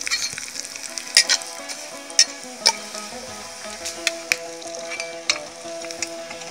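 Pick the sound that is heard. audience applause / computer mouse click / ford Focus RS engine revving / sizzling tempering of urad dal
sizzling tempering of urad dal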